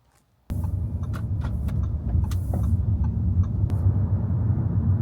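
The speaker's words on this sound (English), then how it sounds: "I'm going to jump into the car and we're going to get going." A car's engine starts and settles into a steady low rumble from inside the cabin, with a few brief clicks and knocks early on and no talking.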